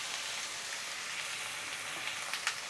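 Dry masala spices roasting in a pan for an oyster fry, a steady close hiss of sizzling with a few faint crackles and pops near the end, no voices.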